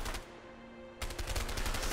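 Gunfire from a video game crackles in a quick, rapid volley, fading slightly before a louder, denser burst of shots takes over, with no talking over it.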